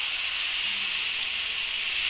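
Mussels cook in a covered pot of soup with condensed milk, giving off a steady bright steaming hiss, close and continuous with no voices.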